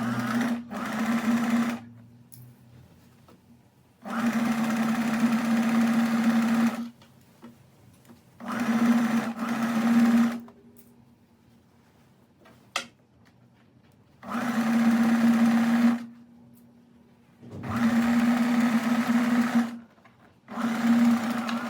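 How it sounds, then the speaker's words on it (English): A sewing machine stitching along the curved upper edge of a strapless top's fabric layers runs in several loud, steady whirring bursts of a few seconds each, separated by quiet pauses. "we're going to stitch along this top upper curved edge with a 1 centimeter seam allowance"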